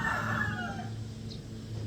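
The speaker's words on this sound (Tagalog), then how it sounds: "Ingay ng manok." A rooster crows a single drawn-out call in the morning, clear and fairly close, over a low steady background hum.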